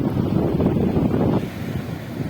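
Ocean waves wash in and out close by, a loud, churning rush buffeted by strong wind on the microphone, easing noticeably partway through as the water pulls back.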